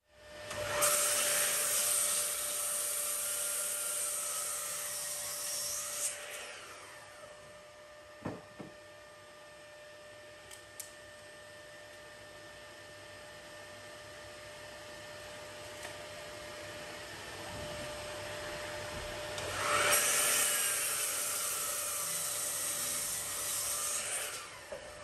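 A power saw cross-cuts a wooden board for a giant 900mm mallet. The saw whines up loud at the start, falls to a steady hum through the cut with a couple of knocks, then surges again near the end.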